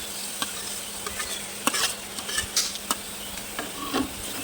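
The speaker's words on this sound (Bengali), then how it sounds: "মাছটাকে একটু ভেজে নেব" Pieces of silver fish fry in oil spiced with cumin powder and salt, giving a soft, steady sizzle broken by occasional clicks of a spatula stirring the pan, close but low in level.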